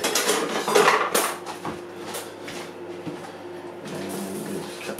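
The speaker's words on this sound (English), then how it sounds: "I'm just going to get the good knife" Kitchen cutlery and metal utensils clatter and clink in a drawer while a kitchen knife is fetched, a string of sharp close rattles with brief pauses, no voice.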